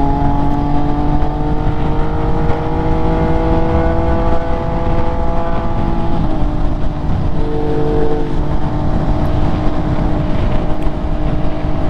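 An MV Agusta F3 800cc triple-cylinder motorcycle engine drones loudly and steadily, its pitch shifting slightly as the revs ease and climb, close and continuous with no speech.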